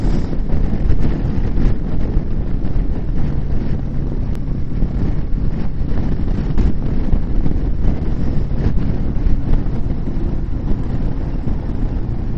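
Wind buffeting a microphone while riding a motorcycle along an open road near a farm, a loud constant roaring rumble with no pauses, no voices over it.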